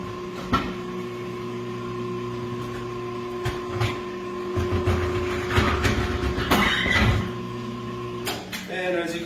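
A tire machine works a tire onto a rim with mechanical whirring, clunks and scraping, along with several sharp knocks. A person talks over the machinery.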